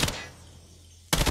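Two sharp bursts of gunfire bracket a quiet stretch, one right at the start and one near the end, with a sniper rifle fired in a ranked shooter match.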